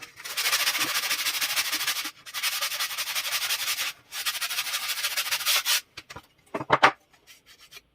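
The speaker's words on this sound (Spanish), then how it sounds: "Ayudándome de una lija, retiro imperfecciones y pulo bordes y superficies rugosas o astillas que pudieran quedar." Sandpaper rubbed by hand over cardboard and wood in three long bursts of steady scratchy rasping, close up, then a few short scrapes and light taps.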